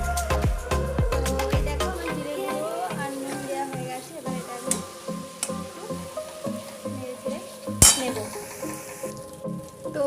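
Spice paste frying in oil in a pan, with steady sizzling mixed with stirring, clinking utensils and pot sounds, close and fairly busy throughout, with one sharp clank near the end.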